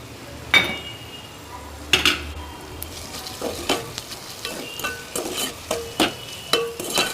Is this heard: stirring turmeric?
yes